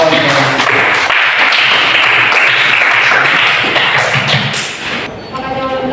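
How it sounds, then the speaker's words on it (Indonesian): Classroom applause for a student's answer, a steady wash of clapping lasting several seconds before tapering off near the end. "Berikan aplaus untuk jawabannya"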